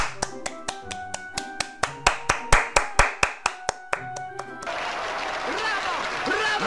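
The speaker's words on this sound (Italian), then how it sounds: "Due minuti di applausi." Roughly fifteen sharp, evenly spaced hand claps ring out one after another, then give way to a dense wash of noise like scattered applause.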